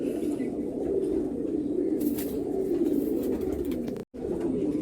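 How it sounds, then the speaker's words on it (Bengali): Golden ice pigeons, including a male, coo in a low continuous murmur of overlapping calls, steady and close, broken by one brief silent gap near the end. "এ একটা নর পায়রা আছে"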